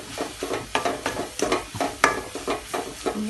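Besan halwa with egg being stirred and roasted in a pan: rhythmic scraping strokes of a spoon against the pan, about two per second, over a soft sizzle, close and fairly loud.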